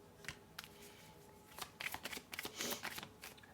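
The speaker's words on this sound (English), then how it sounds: "when I was shuffling and channeling your energy" Tarot cards being shuffled by hand, soft riffling and flicking in irregular bursts, close and quiet with no talking.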